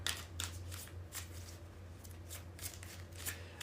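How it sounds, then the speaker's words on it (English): A tarot card deck being shuffled, a rapid riffling flutter repeated in several bursts, close and fairly quiet with no talking. "we're getting 3 more shuffles"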